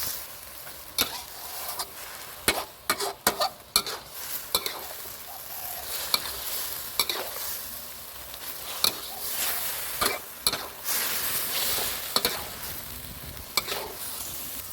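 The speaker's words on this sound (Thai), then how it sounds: "ผัดสักพักหนึ่งครับ วุ้นเส้นก็จะดูดน้ำซอสผัดเข้าไป" Glass noodles with chicken and bamboo shoots stir-fried in a wok, with a steady sizzle and repeated scraping clacks of a spatula against the pan at an irregular rhythm.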